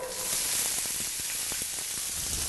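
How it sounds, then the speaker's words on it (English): Onions sizzle in a couple of tablespoons of hot cooking oil in a pan, a steady close hiss with small crackles all through. "put a couple tablespoons or so of your cooking oil in there, and then I'm going to put my onions in first"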